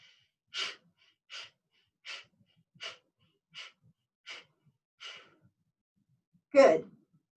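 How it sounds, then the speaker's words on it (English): Seven evenly spaced, sharp breaths puff out in a steady rhythm during a pumping breathing exercise with arm movements, followed after a pause by a longer, heavier exhale, all close and clear. "when you inhale, you take your arms out like a pump, pumping the breath like this"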